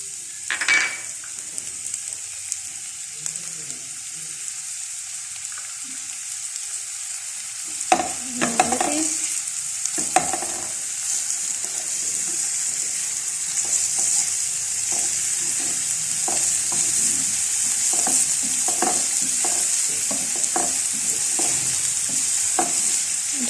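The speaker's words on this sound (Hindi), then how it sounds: "इसको हल्का सा फ्राई कर लें। सब सब्जियों को जो है मैंने हल्का सा फ्राई कर लेना है।" Chopped onion and mixed vegetables fry lightly with garlic in a pan for potato cutlets, a steady close sizzle running throughout with repeated scraping stirs and a few clinks of a utensil.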